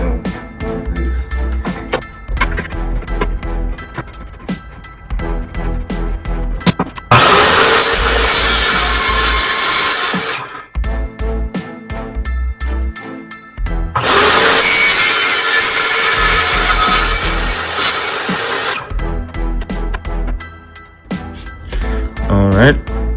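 A power tool smooths the rough, jagged edge of a scrap wood board for a bar face plate, two loud sustained grinding bursts of about three and five seconds, separated by quieter shop noise and handling.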